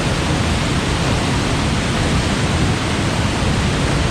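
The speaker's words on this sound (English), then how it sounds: "canyon right by the Misty waterfall" A loud, steady roar of rushing water fills the air, a constant broadband wash of a nearby waterfall in Kings Canyon with no breaks.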